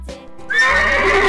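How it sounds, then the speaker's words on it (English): A single loud, close horse neigh, a rising whinny that holds and wavers for about a second after a brief soft lead-in. "Horse."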